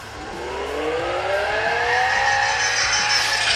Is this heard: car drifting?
yes